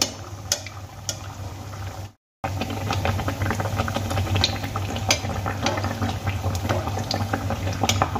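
Steady bubbling sizzle of poa pitha batter (flour and semolina) frying in hot oil over a medium-low gas flame, with a brief dropout near the start and small clinks from utensils.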